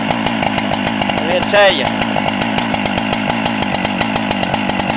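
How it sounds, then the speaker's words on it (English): A Husqvarna 395XP chainsaw fitted with a 24 inch bar idles loudly up close in a steady, rapid chugging drone, with a brief rising rev partway through and someone speaking over it. "Let it idle a little bit for you. That's a beast of a saw right there now."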